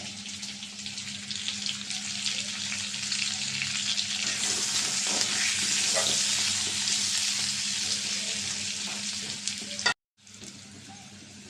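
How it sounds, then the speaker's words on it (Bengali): Turmeric-coated potato pieces fry in a pan, giving a steady loud sizzle with occasional stirring, cut off briefly near the end before the frying resumes. "আলুগুলো একটু ভেজে নেব হলুদ মেখে নিয়েছি"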